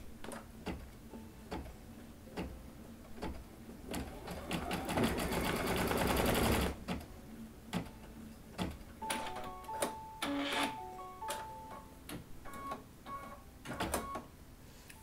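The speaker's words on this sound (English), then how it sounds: "this is just the placement stitch, and it's going to stitch right here along the top of the head" An embroidery machine sews a placement stitch on an in-the-hoop bunny slipper, its needle clattering in steady rapid bursts with short pauses and a denser run of stitching midway, close and clear.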